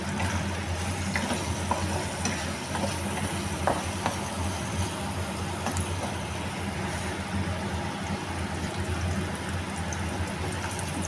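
Food frying in hot oil in a pan, a steady, dense sizzle and crackle that stays even throughout, with no voices over it.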